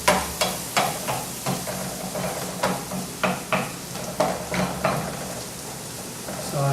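Vegetables for acorn squash soup sautéing in a pan, with a continuous sizzle broken by regular scraping and tapping strokes of a utensil stirring at close range.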